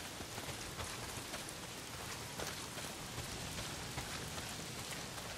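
Heavy rain pours down in the game Days Gone, a dense, constant hiss of drops on surfaces with scattered louder splatters and no voices.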